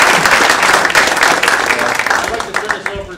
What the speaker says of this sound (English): Let's have a round of applause for all of us.